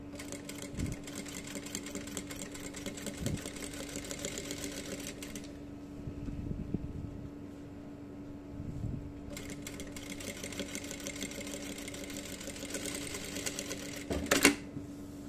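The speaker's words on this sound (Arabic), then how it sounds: "بعض الأعطال نعرفها من صوت الماكينة" A sewing machine runs in a jalabiya sewing workshop with a steady, fast mechanical whir. It stops for a few seconds midway, then starts again, ending with a louder clack near the close.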